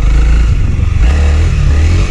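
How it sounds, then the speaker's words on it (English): Honda CRF 300L dual-sport motorcycle engine revving hard for a wheelie, a loud, close, continuous low roar that surges and dips over about two seconds. "We're gonna do a wheelie here."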